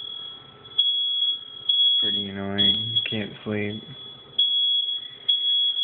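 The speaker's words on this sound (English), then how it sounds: "I hate 1:30 fire alarms." A smoke detector fire alarm beeps at night, a steady high-pitched tone broken by short repeated chirps, heard close and loud throughout while a person talks briefly in the middle.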